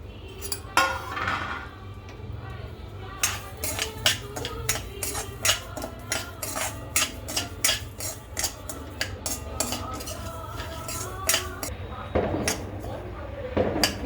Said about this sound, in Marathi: आपण हा दलिया त्याच्यामध्ये भाजून घेऊया